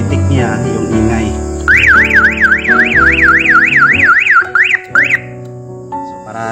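A car alarm siren whoops loudly in a rapid rising-and-falling warble after an installed unit senses a drop, cycling for several seconds before cutting into a few short chirps, with background noise beneath.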